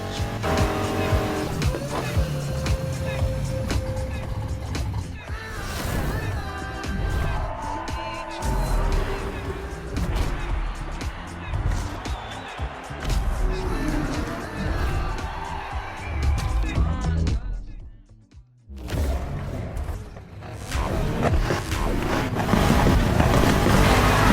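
A street race in the video game Need for Speed, with roaring engines, revving and squealing tires running continuously and loudly under game music, while a voice talks over it.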